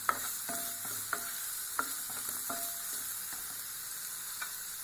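Tomatoes and vegetables frying in a pan for oats upma, with steady soft sizzling broken by repeated clinks and scrapes of a stirring spoon, close and moderately quiet, no talking.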